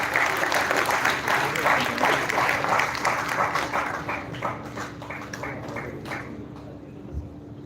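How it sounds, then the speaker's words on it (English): Audience applause for a guest speaker at a college tech festival event: loud crowd clapping with distinct individual claps that gradually thins and fades, over a steady low hum. "Please give a huge round of applause for sir."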